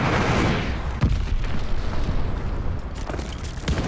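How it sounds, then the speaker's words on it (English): A heavy, rumbling explosion from an enemy glide bomb in Call of Duty, a loud broadband boom that rolls on for several seconds with smaller crackling bursts and debris inside it. "Enemy glide bomb incoming."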